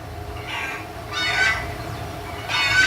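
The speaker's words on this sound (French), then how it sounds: "balancer les poules" Chickens in the video game Crysis give short honking squawks, three separate bursts a second or so apart over a low, steady game background hum.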